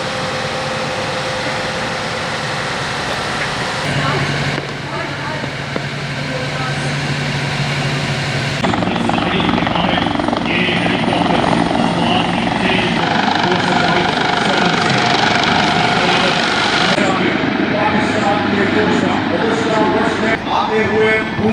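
A helicopter's steady rotor and engine roar at a military parade, loud and continuous, shifting in tone partway through as it passes by, with a voice talking over it.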